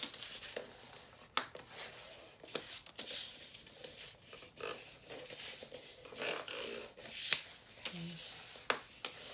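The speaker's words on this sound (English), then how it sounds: "Fold it back and forth. Burnish it really well." Paper is folded and burnished for a handmade album, a faint, close, continuous rubbing and scraping with small crinkles and a few sharper ticks.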